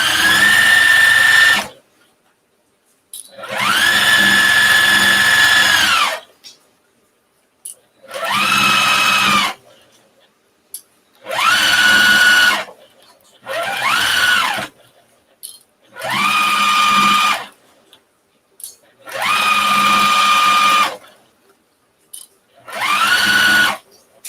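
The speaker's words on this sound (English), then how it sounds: "So I'm just going to do a 1/4 inch seam. Nothing bigger, nothing smaller. And of course I'm back stitching." A sewing machine runs a quarter-inch seam with back-stitching, in about eight loud whirring bursts of a second or two each, separated by short silent pauses.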